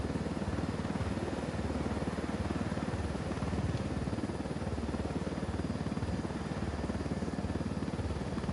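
A helicopter in a PS4 video game makes a steady, dense rotor-and-engine roar that fills the whole stretch without letup, loud and close.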